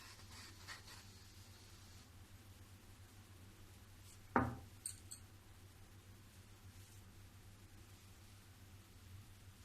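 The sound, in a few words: cutting rolled dough with a glass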